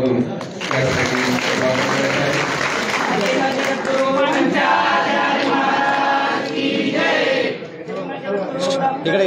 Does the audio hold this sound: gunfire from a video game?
no